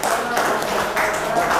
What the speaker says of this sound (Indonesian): Bapak Ibu tepuk tangan lagi ya